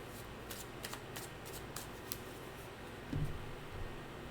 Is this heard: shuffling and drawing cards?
yes